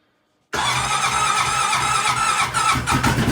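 A cold Honda DCT motorcycle, out in about 17 degrees, fires abruptly after a silent moment and settles into a loud, steady, close idle.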